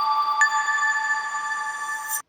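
A telephone rings in an animated Hindi children's cartoon, one electronic ringing tone held steadily for about two seconds before cutting off abruptly, loud and alone.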